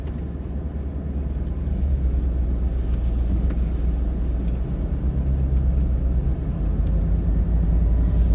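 Shelby Super Snake Ford F-150 pickup driving, its engine a steady low rumble heard from inside the cab, even and continuous throughout with no talking.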